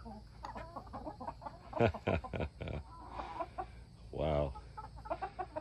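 Chickens cluck at a backyard coop while a rooster mounts a hen, with short bursts of clucking and squawking, one louder drawn-out squawk near the end, and a brief spoken exclamation.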